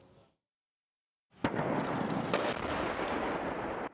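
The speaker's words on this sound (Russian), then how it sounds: "Взрывы доносятся со стороны аэропорта." Explosions and artillery fire in the Donbas near Donetsk airport, a sudden heavy blast followed by a sustained loud roar with a second sharp crack, after a brief silence.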